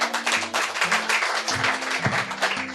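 An audience claps at a Hindi poetry event, a dense patter of applause running continuously under sustained musical tones.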